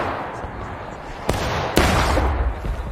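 Two sharp gunshots crack out in the Civil War game War of Rights, a few seconds of ambient battle noise around them, with someone talking.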